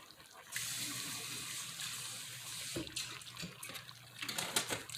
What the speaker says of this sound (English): Add some water into this jar.